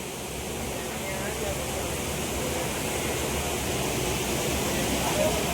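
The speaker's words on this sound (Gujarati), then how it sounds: "આટલું પાણી આવે છે ફુવારાની ઘોડે" Water gushing like a fountain at Galdhara, a steady, loud, unbroken roar of rushing water filling the whole scene without pause.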